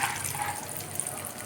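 Hot ghee trickles and drips from fried nuts lifted out of the pan in a strainer, a brief, continuous liquid patter up close.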